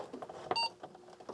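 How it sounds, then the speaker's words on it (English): A single short electronic power-on beep from a Franklin Ace 1200 Apple II clone computer, a brief clear tone heard close among faint room noise. "I thought there was no speaker, but there was a beep"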